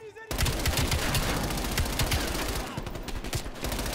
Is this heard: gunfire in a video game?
yes